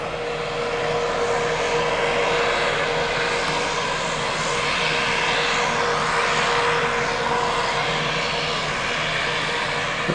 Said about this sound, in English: Sounds like we got a seaplane coming by the ship here.